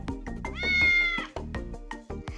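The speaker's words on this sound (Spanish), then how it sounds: "Era solo un gatito." A cartoon kitten meows in a children's animated show, with several close, clear meows including one long drawn-out cry in the middle, over light background music.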